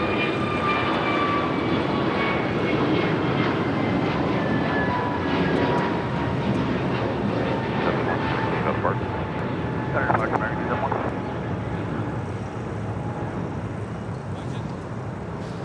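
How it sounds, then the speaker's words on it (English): An Aeromexico Boeing 787 Dreamliner jet arrives at LAX as a loud, continuous engine roar with a high whine sliding slowly downward, heard over the steady hum of a busy airport. "Aeromexico, the Dreamliner, coming from Mexico City."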